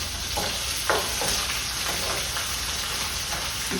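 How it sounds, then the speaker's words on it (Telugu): Onions frying in a pan make a loud, continuous close sizzle with soft stirring scrapes, and no one speaks over it. "వేగిపోయినాయి, ఉల్లిపాయలు వేసేస్తున్నాను."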